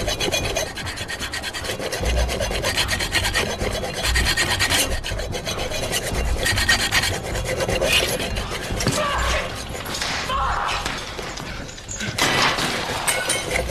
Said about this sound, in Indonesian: Mereka menemukan dua gergaji besi dalam bungkus plastik, namun tak bisa digunakan untuk memotong rantai dan gembok yang cukup padat tersebut.